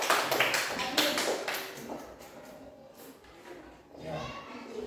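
Classroom applause from students, a burst of brisk clapping that fades after a couple of seconds, followed by quieter room noise and a teacher talking.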